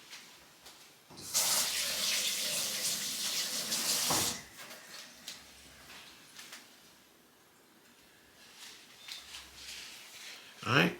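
Water runs from a tap as hands are washed partway through seasoning meat for smoking: a loud, close, rushing burst for about three seconds, then quieter splashes and handling sounds with a person talking nearby.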